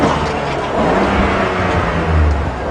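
A safari game-drive vehicle's engine revs loudly and close by, in sustained surges of throaty growl that swell and ease over a few seconds, with no talking.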